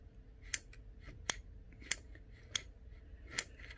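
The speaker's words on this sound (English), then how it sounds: "the roller on the micro switch rides up and down inside that little plastic piece" Micro switch on a 3D printed Polish Enigma machine, its roller riding a plastic ramp: five sharp, close clicks spaced roughly evenly over a few seconds, alone against a quiet hiss.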